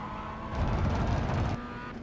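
A Mazda MX-5 race car at Rudskogen in iRacing accelerates in a brief, moderate engine swell that rises and then drops back after about a second, with no talking.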